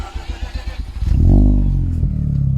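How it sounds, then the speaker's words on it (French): A Mazda RX-8 rotary engine with modified exhaust cranks with rapid starter pulses, catches and flares to a loud rev, then settles into a throbbing, lumpy idle close by. "tu vas nous faire un petit démarrage moteur pour voir ce que ça donne"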